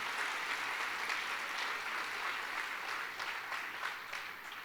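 A church congregation claps steadily in sustained applause, a dense even patter that fades slightly toward the end, with no voices over it.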